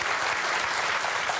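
A television studio audience at a German cooking show applauds loudly and steadily, a dense wash of hand clapping with no break for its short length.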